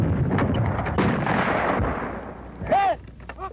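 A 37 mm anti-tank gun fires on a range, giving a sharp loud report with a booming decay, with shouted commands nearby.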